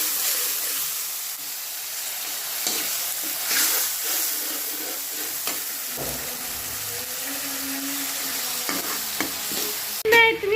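Tomatoes frying in a home kitchen pan, a broad steady sizzle with hiss running throughout, with occasional stirring and scraping clatter and a sharper clank near the end.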